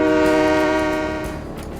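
A train horn sounds at a level crossing in the Train Mechanic Simulator 2017 video game: one long, loud, steady chord-like blast that slowly fades, with no talking.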